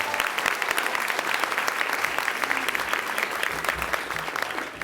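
A crowd applauds at a university graduation ceremony in Melbourne, with steady sustained clapping from many hands that holds at an even level and fades slightly toward the end.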